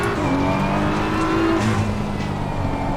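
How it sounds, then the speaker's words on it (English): A video game race car engine roars steadily at high volume, its pitch stepping down through downshifts with a harsh, gritty mechanical growl. "Wow, the sounds, the downshifts, it's so brutal."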